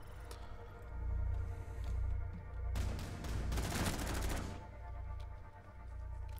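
Gunfire in the game Rainbow Six Siege, a loud burst of rapid shots clustered in the middle over a steady low game hum, with quieter ambient sounds before and after.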